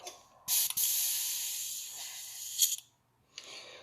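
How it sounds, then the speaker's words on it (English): An airbrush gun with a very thin nozzle spraying out water, a steady airy hiss running nearly two and a half seconds, then a brief quiet gap and a second short burst starting. "Just waiting for some of that water to drain from my gun so I can spray it out."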